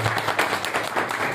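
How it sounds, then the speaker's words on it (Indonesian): An audience at a school outreach session claps, a short dense patter of many hands heard close and fairly loud. "ya boleh tepuk tangan dulu."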